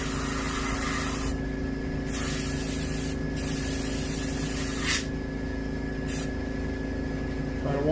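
Steady hiss of spray paint applied to the gills of a striper fish mount, continuous and close with a constant mechanical hum beneath, brief louder bursts between pauses.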